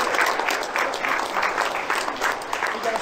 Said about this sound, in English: So make some noise for our sponsors.